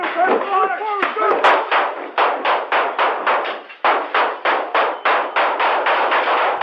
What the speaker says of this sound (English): The suspect firing from the couch got off 18 rounds.